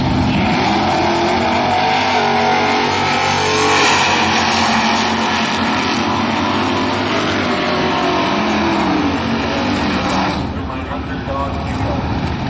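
GM stock cars roar down a drag strip at NSS Saint Louis, a loud sustained engine drone with revving surges that swells and fades as the cars pass, with a commentator's voice over it.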